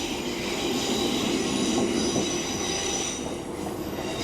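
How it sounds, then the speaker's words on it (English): A train runs along a rural line near Gisburn and Clitheroe, a loud steady rumble with wheel squeal and faint clickety-clack, heard close with no voices. "Who's a local haul train? Or is it a freight? Is it a light engine?"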